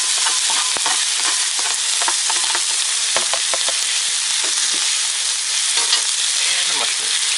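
Peppers frying on a Blackstone griddle at high heat alongside steak and shrimp, a steady dense sizzle with scattered crackles and scraping stirs throughout, no talking.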